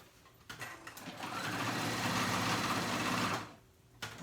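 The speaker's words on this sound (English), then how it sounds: "I'm gonna close that in with just my straight stitch" A sewing machine runs a straight stitch along the waistband of a paper bag skirt: a brief start, then a continuous whirring run of about three seconds before it stops, with a small click after.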